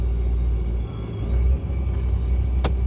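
A Procharged Pontiac GTO idles with a deep, steady low rumble while shifted into gear, the engine note swelling slightly and settling, with a brief sharp click near the end.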